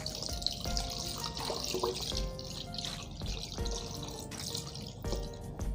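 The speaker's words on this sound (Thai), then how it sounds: "เติมน้ำเปล่าเลยเลยนะคะ" Water pouring steadily into an electric pot, a soft continuous splash and trickle with faint clinks, fairly quiet and close.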